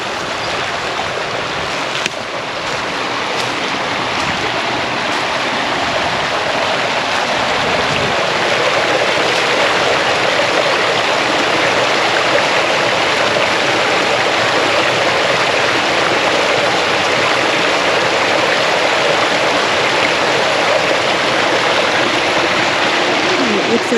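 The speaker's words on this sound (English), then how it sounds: "What a beautiful stream." A forest stream rushes over small cascades in Nothstein Preserve, Cresco, Pennsylvania, a loud, steady, close roar of water that swells slightly partway through and carries on with no talking.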